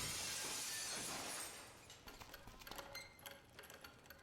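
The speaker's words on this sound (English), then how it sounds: "let's cross our fingers that the seat cover absorbs the noise of the breaking glass" Glass is broken through a seat cover in the point-and-click game Dead Synchronicity, a muffled crash with a burst of noise followed by scattered, faint tinkling fragments.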